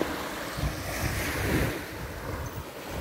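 Surf washing onto Kenepa Grandi beach in Curacao, a continuous broad wash of breaking waves that swells and eases, mixed with wind buffeting the microphone; no voices.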